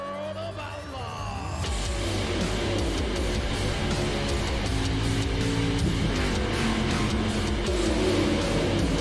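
Race cars from the iRacing video game at Daytona, loud continuous engine roar with several cars droning and shifting together, steady and close throughout.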